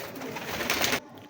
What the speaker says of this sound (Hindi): ये माशाल्लाह मेरे बड़े परफॉर्मर कबूतर हैं।